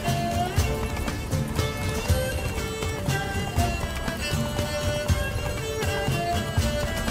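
A horse galloping in The Witcher 3, with steady rapid hoofbeats drumming throughout over music and game ambience.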